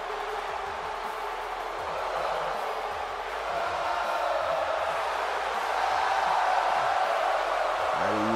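A large arena crowd in the wrestling game WWE 2K18 keeps up a dense, continuous roar that swells slightly toward the end, with no individual voices standing out.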